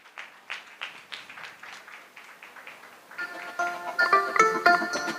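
An audience at a Kenyan water works development agency's strategic plan event claps in a brisk rhythmic pattern, and music with sustained tones comes in partway through, growing louder over the claps.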